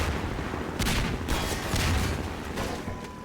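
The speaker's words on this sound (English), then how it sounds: "Here comes the missiles." Missiles strike in the Half-Life 2 video game, giving a series of blasts and rapid gunfire-like bursts at irregular intervals. The explosions are loud and fairly close, with a low rumble between them.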